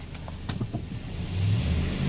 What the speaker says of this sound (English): We got a running truck.